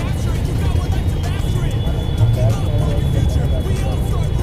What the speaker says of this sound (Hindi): ट्रैफिक देख रहे हो भाई, इस तरह से ट्रक की वजह से ना इतना ट्रैफिक लग गया।